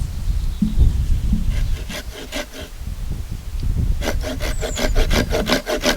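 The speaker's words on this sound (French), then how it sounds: "Vous prenez votre scie et juste à l'opposé, vous venez faire" A hand saw cutting wood for a pegged mortise joint, heard as close, rhythmic rasping strokes, a few slow pulls followed by a faster run of back-and-forth strokes, with no talking.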